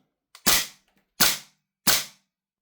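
An airsoft gun fed by a refilled propane gas magazine fires three loud, sharp shots at close range, evenly spaced about three-quarters of a second apart, with a faint click before the first.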